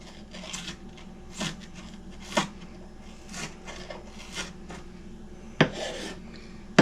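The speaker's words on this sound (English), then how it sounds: "We're just giving it a coarse chop." A knife gives food a coarse chop on a wooden board for souse and taters, making about eight irregular, fairly quiet thuds and scrapes at close range.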